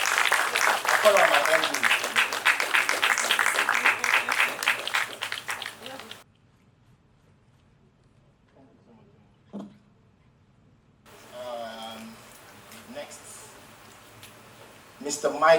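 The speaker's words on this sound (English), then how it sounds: "let's give her a round of applause" A loud round of applause from an audience at a Lagos business clinic, dense clapping for about six seconds, then quiet, with someone speaking briefly afterward.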